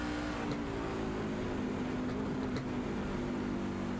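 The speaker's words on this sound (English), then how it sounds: "Truck still turning laps right now." Racing trucks circle the Canadian Tire track, their engines droning steadily in a continuous, fairly loud hum with a faint high chirp partway through.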